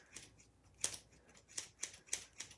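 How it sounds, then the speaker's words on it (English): Scissors point cutting long hair, six or seven short crisp snips in an uneven rhythm, close and quiet with no voices. "Point cut again."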